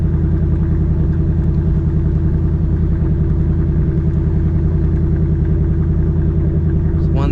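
A 2024 Ford Mustang GT V8 idling as its revs settle: a loud, deep, steady rumble with a fine pulsing throb, constant and close throughout.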